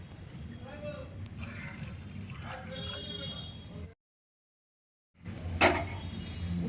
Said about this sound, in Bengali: যেই চাল নিয়েছিলাম তার পরিমাণ মতো ডবল জল আপনাদের নিয়ে নিতে হবে